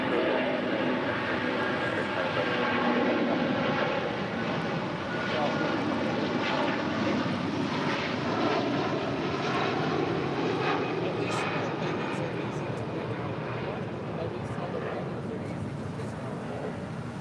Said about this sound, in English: The 757 starting taxi